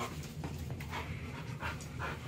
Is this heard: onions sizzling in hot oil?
no